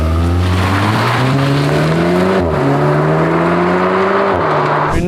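A BMW M2 with an N55 engine revving loudly nearby, pitch climbing through gears with brief drops at shifts, a throaty sustained roar.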